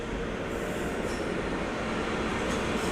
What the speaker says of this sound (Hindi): गोल्डन टेम्पल मेल जो उधर से जा रही है।